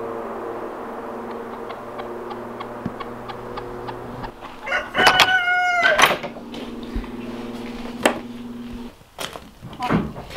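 Chickens cluck and a rooster crows loudly nearby, with scattered clucks and a voice speaking between them.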